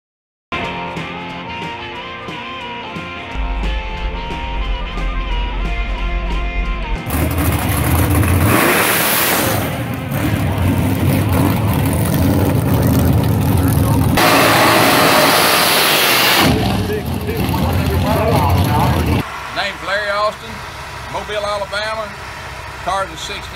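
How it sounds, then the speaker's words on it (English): A 1964 Chevrolet Nova gasser drag car with a 350 engine and four-speed revs loudly at a drag strip, its engine roaring and surging in repeated bursts with crowd and announcer noise mixed in. "Car's a 64 Nova, Bounty Hunter, engine 350, a 4-speed car."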